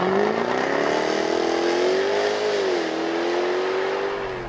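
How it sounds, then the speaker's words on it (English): A 2014 Jaguar F-Type accelerating hard from 0 to 60 mph from inside the car, its engine note rising steadily with a loud, continuous exhaust roar that briefly dips at a shift and then climbs again. "here's the very impromptu 0 to 60 in the new F-Type"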